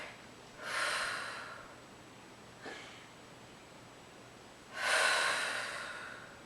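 Deep breathing during a Pilates exercise: two long, airy breaths, each swelling then fading, with a short sniff between them, close and quiet in a still room.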